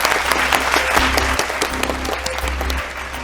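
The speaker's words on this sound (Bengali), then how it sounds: "সবাই জোরে হাততালি।" A studio audience on the Bengali family game show Sera Paribar claps loudly and steadily, a dense close wash of hand claps lasting the whole stretch, with no talking.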